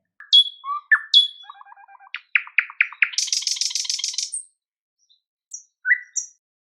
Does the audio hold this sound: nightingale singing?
yes